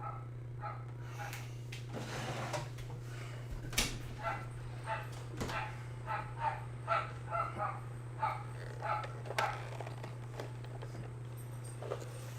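A dog barks repeatedly outdoors, a steady run of sharp woofs at moderate distance over a constant low hum, reacting to another dog nearby.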